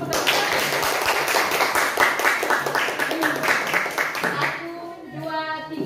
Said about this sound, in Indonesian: Tepuk tangan untuk kelompok Garuda.